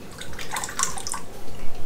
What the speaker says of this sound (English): And now it's time to lift the grain basket.